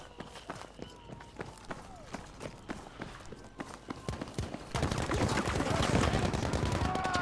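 Battlefield 5 gunfire in a competitive match: sharp rifle shots at a steady pace with running footsteps, then a dense burst of louder rapid fire and explosions near the end.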